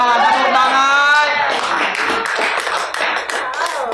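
Clapping hands from a group at an Indonesian mothers' game show, a dense patter of claps rising in the second half under a sung or spoken voice from the opening.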